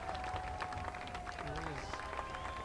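Crowd at a high school football game between St. Cloud Tech and St. Cloud Apollo cheers steadily as the clock runs out, a dense, sustained roar with scattered shouts and claps throughout.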